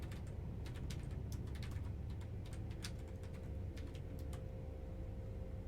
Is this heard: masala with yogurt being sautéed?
no